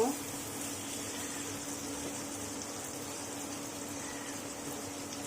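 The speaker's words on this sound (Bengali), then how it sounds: "এখন আমি এগুলোকে হালকা গোল্ডেন ব্রাউন করে ফ্রাই করে নিব।" About one and a half cups of chopped onions fry in a pan with a steady, soft, even hiss that holds at a low level throughout.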